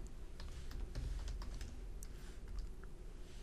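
Quiet typing on a computer keyboard: a short run of soft, irregular key taps, close by, over low background hum with no voices.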